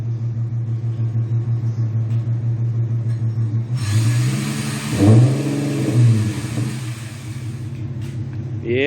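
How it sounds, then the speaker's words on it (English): Infiniti Q50 with muffler deletes and a VQ engine idling with a deep rumble, then revved sharply a couple of times, the exhaust rising and falling loudly before settling back to idle. "This nice Q50. Just got some muffler deletes on here."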